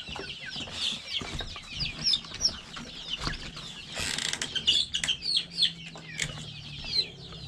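Two-month-old free-range village chickens cluck and chirp in quick, scattered calls, mixed with creaking and rustling movement close by.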